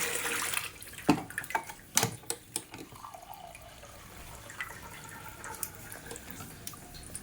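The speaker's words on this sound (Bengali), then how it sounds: "জল" A tap runs with water splashing and dripping nearby, with irregular sharper splashes early on that settle into a steady, moderate flow.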